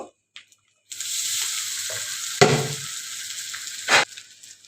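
Rice tipped into spiced oil for Bengali basanti pulao, a sudden loud sizzle that holds steady, then a sharp burst of stirring midway and another near the end, with no voices.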